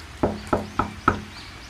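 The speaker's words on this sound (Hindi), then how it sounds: "मीनू मासी के घर का दरवाज़ा खटखटा है" Four evenly spaced, hollow knocks land on a house door in a cartoon, crisp and close, with no talk.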